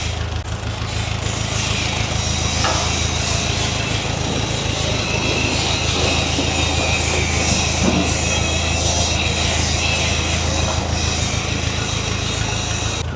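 An old Ferguson TE20 tractor runs steadily with a loud, even engine drone and a low throbbing hum, heard close by and alone without voices.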